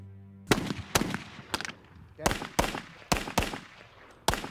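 Rifle and pistol shots from German WWII weapons such as the Mauser at a training range, seven or eight loud, close cracks in an uneven rhythm, each with a short echoing tail.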